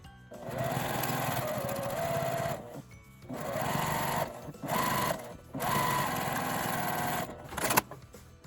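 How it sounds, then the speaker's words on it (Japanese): Sewing machine edge-stitching a triple-folded fabric hem for a tablet pocket, running in several steady whirring bursts separated by short stops, close and alone with no talking. "端ミシンをかけます。"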